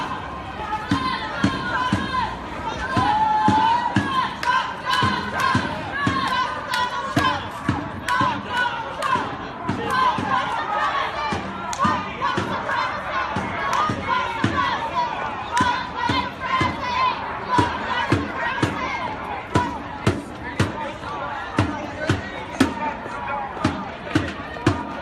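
A crowd at an anti-Trump protest after the election keeps up a rhythmic pattern of beats or claps with raised voices blended in, loud and sustained throughout.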